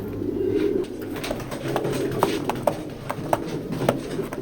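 Racing pigeons in a loft coo steadily with low, rolling calls. Short sharp clicks and taps are scattered over the calls, and there is no talk.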